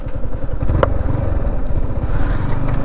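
A Yamaha MT-15 motorcycle is ridden at speed, its engine giving a loud, steady, close drone with wind rush throughout.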